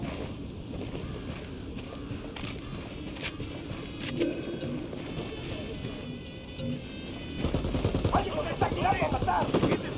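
Gunfire in Ghost Recon Wildlands, with scattered shots and bursts over a low ambient bed, growing louder and denser toward the end.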